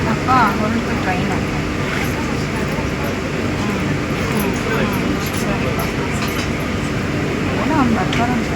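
The Siddhaganga Intercity Express pulls away from the platform with a continuous low rumble and rolling wheel noise, and faint voices drift in over it.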